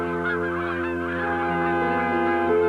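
Cartoon swans call in a flock, overlapping honking tones that hold steady and close for the whole stretch with no speech.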